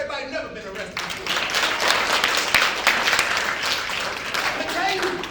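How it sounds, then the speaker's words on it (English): Audience applause from a crowd, steady and dense clapping that swells after a brief start and holds strong throughout, with some voices mixed in. "Clap it up for everybody who's never been arrested before."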